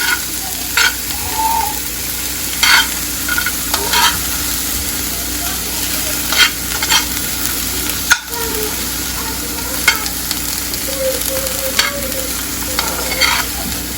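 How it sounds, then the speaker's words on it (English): Steady sizzling of vegetables being stir-fried in a hot pan, with periodic scraping and tossing sounds over a constant hiss. "Just frying them, stir frying them up a little bit."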